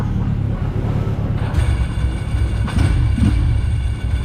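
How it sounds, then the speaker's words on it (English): Forgotten 20-year-old motorcycle engine idling steadily with a rattly clutch, a continuous loud mechanical drone with a clattering texture throughout. "This thing sounds lovely, it's got that rattly clutch, which I absolutely love."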